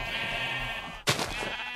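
A Minecraft sheep gives a short, clear bleat close by, cutting in over a steady background hum and fading after about half a second.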